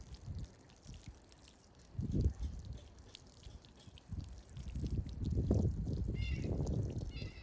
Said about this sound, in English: Now I'm gonna add my label and water my potatoes in with some rainwater.